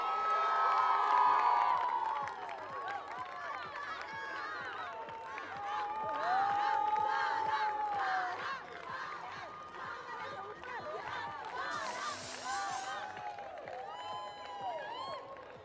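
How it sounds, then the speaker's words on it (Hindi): A crowd cheers and claps at a cricket league prize distribution, with shouts, children's voices and an announcer talking over the noise throughout. "तालियां नहीं रुकनी चाहिए"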